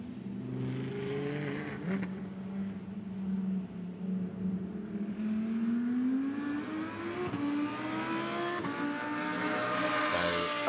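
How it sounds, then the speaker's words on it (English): A GT2 race car drives on the rain-soaked Spa circuit during free practice, its engine rising in pitch through the gears as it approaches, with hissing spray from standing water. "Another one to come towards the timing line, Stefan Ratel"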